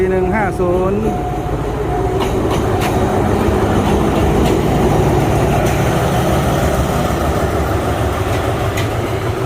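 An empty Alsthom 4150 diesel locomotive rolls through a level crossing with a loud, steady engine rumble and rhythmic wheel clatter, close by, with a horn-like tone at the start and a voice over it.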